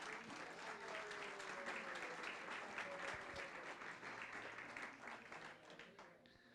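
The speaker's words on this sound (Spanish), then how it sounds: "Y dele un aplauso al Rey de Gloria." Sustained applause fills a church as the congregation of a Spanish-language service claps together, a thick, even roar of hands that tapers off slightly toward the end.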